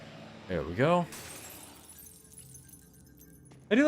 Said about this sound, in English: I do like that they keep also the classic sound effects of like the thing shattering